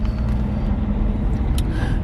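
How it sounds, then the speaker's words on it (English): Heavy trucks crowd a residential street, producing a steady, close low rumble of idling engines that runs unbroken throughout with no speech. "there are trucks blocking the street"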